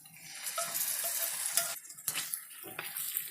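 Sauce is stirred into ground meat cooking in a pan for sloppy joes, with a steady sizzle under close scraping and clinking of a utensil against the pan.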